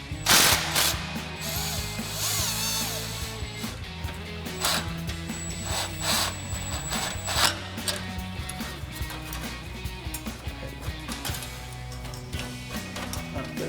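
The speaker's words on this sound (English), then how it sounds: "So now we can go ahead and grab our 13mm socket on our impact, loosen up this clamp, get it out of the way." An impact wrench with a 13mm socket loosens an exhaust clamp on a Sierra 1500 pickup during a dual exhaust install, hammering in several sharp, loud rattling bursts separated by short pauses.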